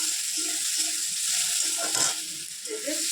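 Food sizzles and crackles steadily in a hot pan, a constant hiss with faint clinks and scraping in the background.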